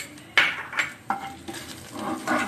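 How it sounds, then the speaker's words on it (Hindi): Cumin seeds drop into hot oil in a pan, crackling and sizzling in short bright bursts with light stirring and scraping against the pan, close and moderately loud, no talk. "ऑयल गरम हो गया अच्छे से अब मैं इसमें एक स्पून ये जीरा डाल रही हूँ"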